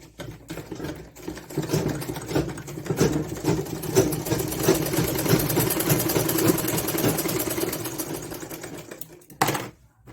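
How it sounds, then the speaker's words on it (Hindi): A sewing machine runs steadily, putting a double line of stitching into a lined blouse, its fast mechanical chatter continuous and close for about nine seconds before stopping. "डबल सिलाई लगाएंगे इसमें।"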